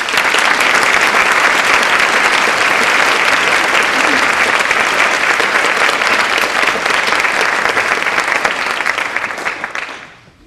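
Audience applause welcoming a speaker to the podium at a university symposium, a loud, dense wash of clapping that holds steady for about ten seconds before fading out at the end.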